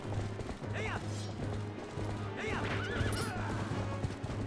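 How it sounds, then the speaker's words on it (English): In the Zelda: Twilight Princess HD final battle, Ganondorf's horse gives two loud whinnies over the thud of galloping hooves and clashing combat sounds. "this is the first time that Ganondorf has been shown riding his horse"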